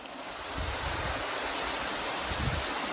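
Big Lion Falls in Mohican State Park running high after a wet April, a steady broadband rush of falling water mixed with wind, close and continuous without talk.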